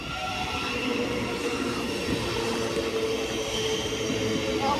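A Great Western Railway train rumbles steadily past close by, with grinding wheel noise and faint metallic squeals, the roar holding constant throughout.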